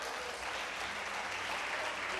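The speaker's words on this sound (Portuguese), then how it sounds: "você pode aplaudir a Jesus?" A church congregation applauds in a steady, dense wash of clapping, moderately distant and even in level throughout, with no talk over it.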